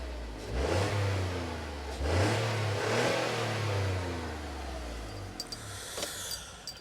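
An old naturally aspirated car engine is revved a few times, rising in sharp swells of mid-range roar before dropping back toward idle, close and loud, with a few light clicks near the end.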